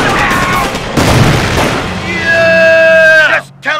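Battlefield gunfire and explosions in Company of Heroes during the Normandy invasion, loud booming blasts and rattling shots close by, with a long whining tone toward the end.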